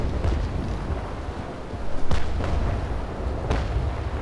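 Ship cannon fire in the naval combat game Naval Action, heard as a few distant booming shots over a constant low rumble of wind and sea.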